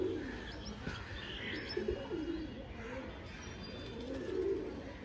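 A pair of green Gola line pigeons coo softly in low, rolling phrases close by, with scattered chirps from small birds in the background.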